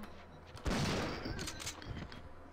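Shotgun fire in the video game Resident Evil 3, a sudden loud boom followed by a dense, noisy stretch of combat sound with a few smaller sharp bursts.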